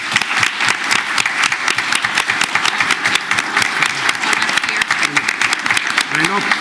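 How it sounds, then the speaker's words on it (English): Dense, steady applause from an audience at a community meeting honoring two co-chairwomen, loud and close, a continuous rush of many hands clapping throughout with some faint voices mixed in. "Let's give them a round of applause."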